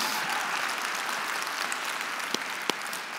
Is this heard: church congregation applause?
yes